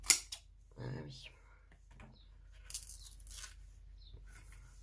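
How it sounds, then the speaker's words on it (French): Adhesive tape being cut and torn by hand while assembling a scrapbook album page, a few short ripping and crinkling bursts at close range with soft handling noises and a quiet voice in between. "C'est pas facile de couper du scotch."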